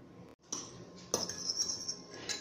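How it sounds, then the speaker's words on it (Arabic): A utensil whisking egg white with turmeric in a bowl for a homemade face mask, quick metallic clinks and scraping against the bowl, close and fairly quiet, with a brief pause near the start. "هنضرب بياض البيض كويس مع الكركم"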